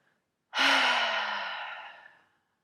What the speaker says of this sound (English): And exhale, let go.